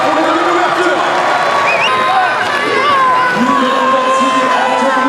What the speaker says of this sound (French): Applaudissements pour les deux ouvertures.